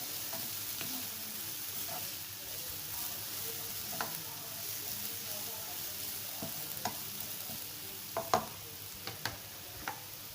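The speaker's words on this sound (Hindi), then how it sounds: "1 से 2 मिनट के लिए इसको फ्राई कर लें।" Chicken samosa filling frying in a pan over medium heat, a steady close sizzle with occasional sharper clicks and scrapes from a utensil stirring it, growing a little busier toward the end.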